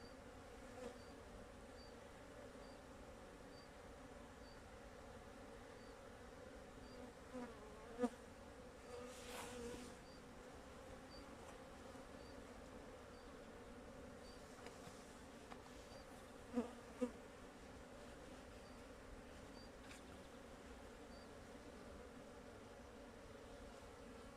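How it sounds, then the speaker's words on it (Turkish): Steady buzzing of many young bees flying at the hive entrance, a constant low drone with occasional louder bees passing close by, in January. "Bu kovan da arı uçuruyor. Yavru arı."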